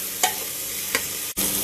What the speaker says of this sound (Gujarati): અને આ રીતે હલાવી દેવાનું અને ટામેટા એડ કરો